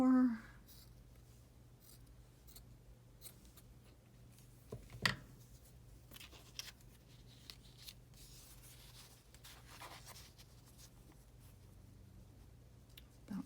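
Paper being trimmed with scissors for a craft journal, with sparse, soft snips and faint rustling spread across a quiet stretch, bracketed by short bits of talk at the start and end.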